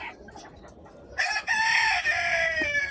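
A rooster crows loudly and close by in a rooftop garden where chickens are kept, a long drawn-out call starting after a quieter stretch of low background clucking and rustle.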